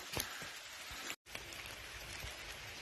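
Steady rain patters in a forest, an even hiss of drops with a few sharper close taps, briefly cut out for an instant midway, no speech.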